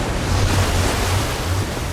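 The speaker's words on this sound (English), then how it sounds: "I don't know how much water this thing is gonna kick out" Water gushes out in the Minecraft Story Mode video game, a loud, continuous whooshing rush like surf or wind that holds steady throughout.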